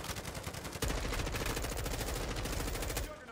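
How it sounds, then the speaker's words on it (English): Sustained rapid automatic fire from a sentry gun in Call of Duty: Modern Warfare 2 during a co-op defense mission, a loud continuous stream of shots lasting several seconds that stops abruptly at the end. "Your sentry gun's getting them."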